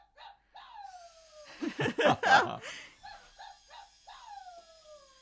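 A WowWee Dog-E robot dog toy gives short electronic yips and gliding howl-like tones, broken by a burst of human laughter and a brief spoken word in the middle.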